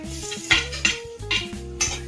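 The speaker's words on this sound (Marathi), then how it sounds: "टॅमॅटो गेलेले आहेत आपल्या कढईमध्ये" Tomatoes cook in a kadhai as a spoon stirs them, giving a few distinct metallic scrapes and clinks against the pan over a soft, continuous sizzle, close by and with no voices.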